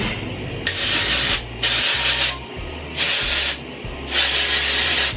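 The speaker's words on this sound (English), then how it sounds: "my dry shampoo and spray that in all over" Four loud bursts of aerosol spray, each a second or so long, with short pauses between, close to the listener.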